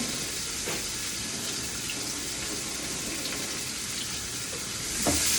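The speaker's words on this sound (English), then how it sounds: "I'm going to put my onions in now. And that's going to be really hot now" Onions sizzling in a very hot pan for Tuscan bean stew, a dense, loud, even hiss of frying that holds steady throughout, with a brief clatter near the end.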